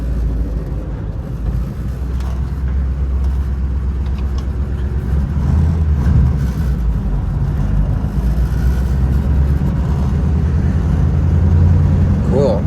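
A 1947 Ford car idles and runs steadily in reverse, a continuous low engine rumble filling the whole stretch, with people talking over it.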